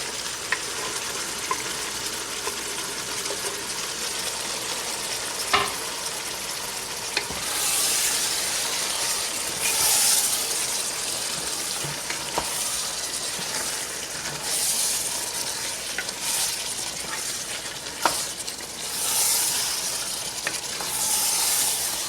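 Tomatoes stirred and fried in a pot for Bombay biryani make a steady bubbling sizzle with swelling, wet stirring surges and occasional sharp clinks of the spoon against the pot; no speech.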